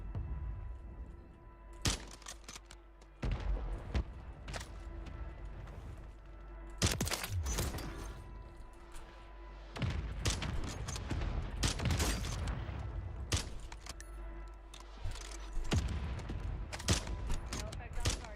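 Mortar strike landing in a solos battle royale shooter: repeated sharp cracks and booming impacts at irregular intervals, mixed with gunfire bursts and voices talking underneath.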